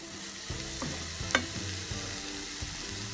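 Paneer, tomato and capsicum sauté in a pan as pizza topping, a low, even sizzle under repeated soft scrapes and knocks of a stirring spoon, with one brighter clink midway.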